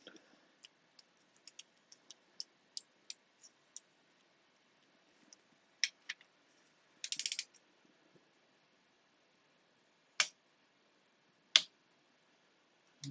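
A bolt on the gearbox of a 1961 Greeves Scottish motorcycle is tightened with a ratcheting tool, making sparse sharp clicks at close range, a short burst of rapid ratcheting, and a few louder isolated clacks.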